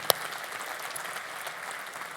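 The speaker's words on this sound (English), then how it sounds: "Someone was applauding that" Audience applause during a faith talk, a steady wash of many hands clapping at a moderate distance, continuing evenly throughout with no voices on top.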